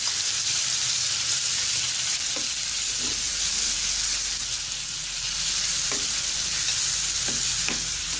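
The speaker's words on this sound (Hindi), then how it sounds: "जब तक चिकन फ्राई होकर तैयार होता है" Marinated chicken fries in a pan with a steady, loud hiss of sizzling oil close up, a few soft clicks of stirring scattered through it; no talking.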